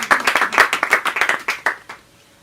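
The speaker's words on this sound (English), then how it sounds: "Another big round of applause." A small group claps at a book club meeting, about a dozen distinct close hand claps in an uneven rhythm that thins out and stops after two seconds, leaving quiet.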